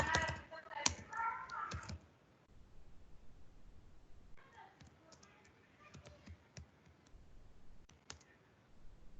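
Typing on a computer keyboard produces faint scattered clicks and taps, with a denser louder patch at the start, then sparse keystrokes under a quiet background.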